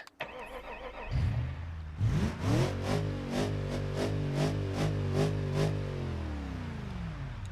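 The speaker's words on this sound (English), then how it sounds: "I hate this motor so much in this truck." A truck engine in the driving game BeamNG.drive cranks, fires up and revs, its rough, droning tone rising and holding steady for several seconds, loud and up front.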